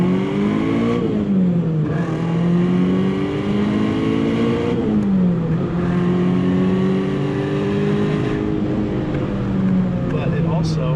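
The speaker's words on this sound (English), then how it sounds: "I love how freely this engine revs" A 1990 BMW E30 M3 Sport Evolution engine revs hard from inside the car, its note climbing and dropping through several gear changes in a loud, continuous drone, with someone talking over it.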